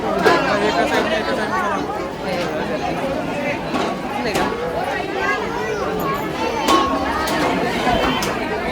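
Dense crowd of devotees waiting for darshan at Balumama temple on an amavasya day, a continuous babble of many overlapping voices close around, with occasional louder calls rising from the crowd.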